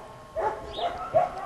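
A nine-week-old female puppy gives three short, high yips spaced a few tenths of a second apart, close by and fairly quiet, with no talking.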